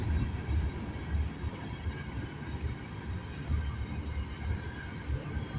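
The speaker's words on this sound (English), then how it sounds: "I hear a rumble, so there might be a DPU on this train, I think." A CN freight train rumbles past at a railside spot near Milepost 23, a steady low rolling roar with a dense, continuous rumble that holds for the whole stretch, close and fairly loud, with no talk over it.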